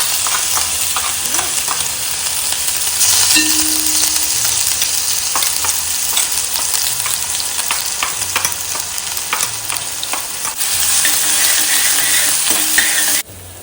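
Spice paste hits hot oil after cumin tempering, producing a loud, steady sizzle with scattered crackles and sharp spatters, plus occasional scraping of a stirring utensil, with no voices.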